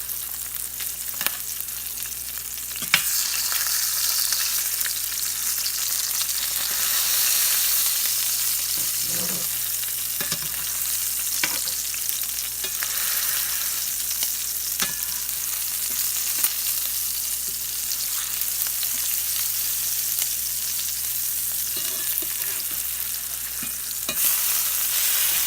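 Flattened meat frying in a cast iron pan, a constant sizzle with repeated scraping and clinking as it is pushed around, close and steady throughout.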